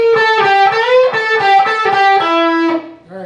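A distorted electric guitar plays a quick solo phrase from a song, sustained, singing notes with bends, loud and close, ending with a brief lower note.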